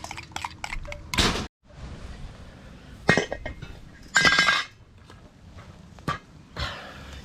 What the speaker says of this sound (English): so we're gonna mix all that dill together